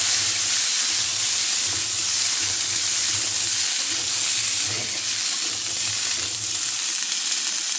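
Food frying in a pan on a gas stove in a village kitchen, a steady loud sizzle and hiss with soft, irregular scraping and stirring knocks underneath.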